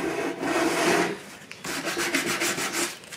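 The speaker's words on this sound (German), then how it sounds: "schleife damit per Hand in den Vertiefungen weiter" A crumpled sheet of 180-grit sandpaper is worked by hand over the recesses of a plastic Opel Zafira hubcap, giving close, steady raspy rubbing strokes with a short pause midway and quicker strokes afterward.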